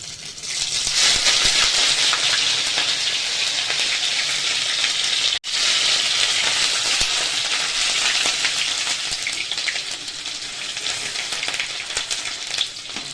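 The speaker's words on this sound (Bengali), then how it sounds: "আদা আর লঙ্কাটা ভাজা হয়ে গেছে" Chopped ginger and green chilli frying in oil make a loud, continuous close-up sizzle that hisses steadily throughout, with only a momentary break partway.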